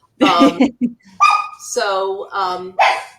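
Several close dog barks and yelps come in uneven bursts, loud and a little strained, with brief pauses between them.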